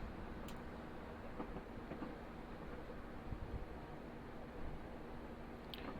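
A Class 158 diesel unit in Train Simulator Classic running on rails between Crewe and Holyhead, heard as a steady low rumble of wheels on track with faint clicks, continuous and without talk.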